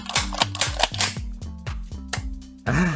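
A rapid series of close, crisp clicks and snaps from a WE FN SCAR L gas blowback airsoft rifle being worked, about ten in quick succession before a short burst of other noise.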